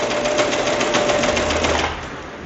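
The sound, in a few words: Singer Ultralock serger sewing machine stitching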